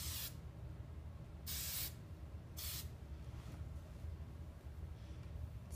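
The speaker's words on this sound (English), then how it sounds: "now I'm just gonna spray some hairspray to finish it off" Hairspray on freshly curled hair comes out in three separate bursts of hissing aerosol, each lasting about half a second, close and clear over a quiet room.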